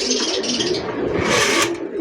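Farm-bred racing pigeons coo close by, their soft repeated calls carrying over a continuous background hum with no talk.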